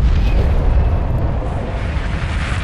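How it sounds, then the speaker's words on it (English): Explosion sound effect in a fantasy story reading, heard as a loud, deep rumbling boom that rolls on continuously and settles into a lingering low roar. "Rainbow Dash saw the explosion."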